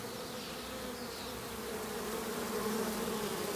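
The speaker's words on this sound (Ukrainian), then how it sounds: "Видно, що бджоли багато." A dense, steady drone of a swarm of honey bees buzzing together, close and continuous, swelling slightly louder toward the end.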